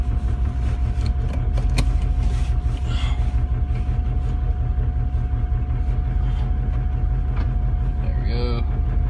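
A car engine idles roughly with a low, uneven rumble and a steady hum, close by, while someone speaks briefly near the end.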